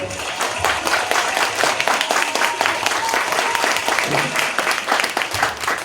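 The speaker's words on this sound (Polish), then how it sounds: "Wielkie brawa dla niego." Loud, lively audience applause for a Polish stand-up comedian at a show in the Netherlands, a thick burst of many hands with sharp individual claps standing out, holding steady for about six seconds.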